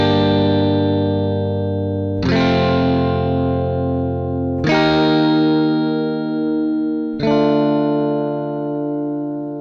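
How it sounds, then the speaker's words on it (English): Four slow electric guitar chord strums with no tremolo, effects or spring reverb ring out one after another, each left to decay before the next, dry and close. "listen to the strum of this chord. This is bone dry."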